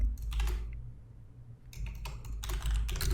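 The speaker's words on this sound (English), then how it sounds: "forgive my keyboard, I know it's loud." A loud computer keyboard clatters in bursts of rapid close clicks, pausing briefly in the middle before typing resumes in quick clusters.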